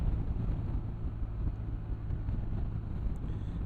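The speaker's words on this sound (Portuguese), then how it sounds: "Está um bocado de vento" Strong wind on a mountain in the Serra da Freita where wind turbines are turning, roaring steadily into the microphone as a dense low rumble with no pauses and no voices.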